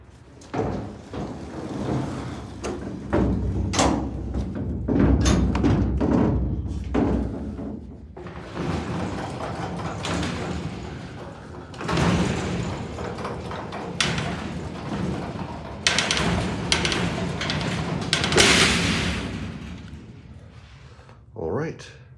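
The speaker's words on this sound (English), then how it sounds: "All right, close the doors up." Doors of a vintage Armor freight elevator rolling shut in a Park Ridge, Illinois building, a series of heavy clattering slams and thuds over about twenty seconds, loud and close, with people talking between the impacts.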